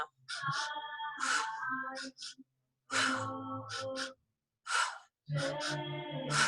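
Deep rhythmic breaths in pranayama breathwork, sharp gasping inhales and long sighing exhales in repeated bursts with short silent pauses between, close and fairly loud.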